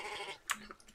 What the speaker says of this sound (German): Alter, diese Schafe, ne? Die geben schon dezent auf den Sack.